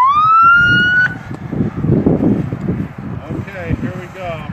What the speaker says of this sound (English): we've got quite a few police cars coming up the road here